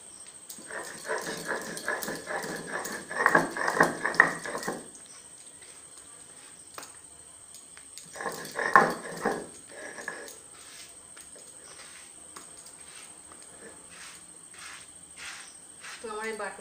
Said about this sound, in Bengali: শিলনোড়াই বেটে নিচ্ছি।